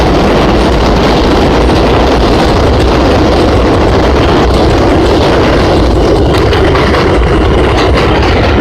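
A train rumbles by loud and close, with a steady heavy low engine roar and rattling rail noise filling the whole stretch without a break.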